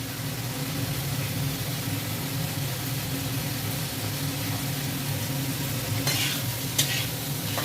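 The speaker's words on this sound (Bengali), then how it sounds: "টমেটো দিয়ে মশলাটা এবার ভালো করে কষা হচ্ছে" Tomato and spice paste stir-fried in a pan, a steady soft sizzle and scraping that runs unbroken at moderate loudness, with a couple of brief brighter scrapes of the spatula near the end.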